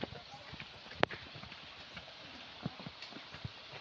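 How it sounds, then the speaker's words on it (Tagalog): Horse hooves clip-clop on a path outdoors, a few scattered knocks at uneven spacing, one sharp strike standing out, under faint background noise. "Oh, mga kabayo!"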